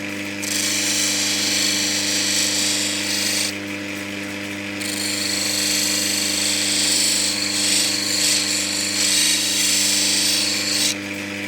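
Opal being cut on a less aggressive 600-grit grinding wheel, a steady whirring hum with a sustained hiss of stone against the wheel that briefly drops out midway, continuous and close, with no talking.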